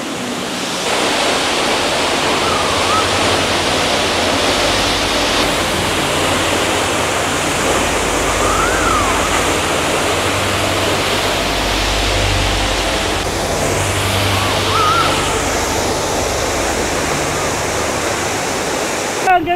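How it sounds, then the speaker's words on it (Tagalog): Buntot Palos waterfall in Laguna roars as a steady, loud wash of falling water that fills the scene without pause. "Nandito na kami sa Buntot Palos Falls."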